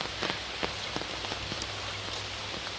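Steady rain falls on surfaces during a rainy morning walk, a faint soft hiss with scattered drop taps and no voices.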